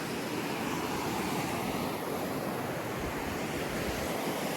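Sea surf washing onto a beach in Oman, a steady broadband wash of breaking waves with some wind buffeting on the microphone, continuous and fairly close.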